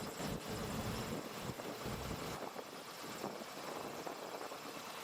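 PTO-driven hydraulic pump on a 1988 GMC C7000 dump truck, a steady mechanical whine over a broad engine drone that holds level throughout.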